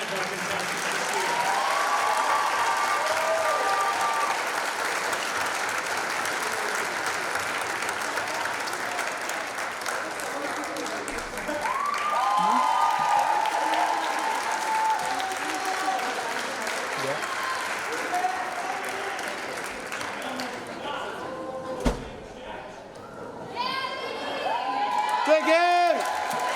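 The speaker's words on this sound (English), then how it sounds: "Let's give one more round of applause to all 10 of our contestants this year." An audience at a school Mr. BHS pageant gives sustained, loud applause for all ten contestants, with cheers and whoops rising through it and voices calling out near the end.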